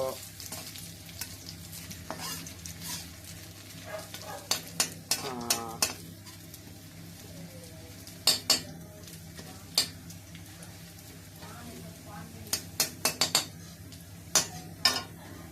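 Cumin seeds and cinnamon tempering in hot oil give a soft, steady sizzle, punctuated by sharp metallic clinks and scrapes of a spoon stirring in the pan, with no talk.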